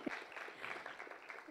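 A brief burst of hand clapping from a group of people at a university public lecture, fairly faint and distant, with a murmur of voices underneath.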